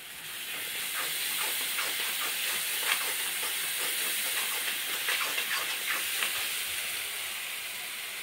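Finely chopped boiled potatoes go into a hot pan for a Maharashtrian aloo sabzi and set off a steady, fairly quiet hiss and sizzle with faint crackles, with no voices.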